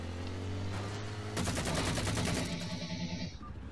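Rapid automatic gunfire rattles out in a dense, loud burst lasting about two seconds in Halo 4, after a steady low vehicle hum, then fades off.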